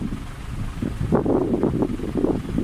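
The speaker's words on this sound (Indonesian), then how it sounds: "Cuaca hari ini cerah tapi berangin." Gusty wind blows outdoors on a sunny spring day, buffeting the microphone in uneven, rumbling bursts that swell and fade close by.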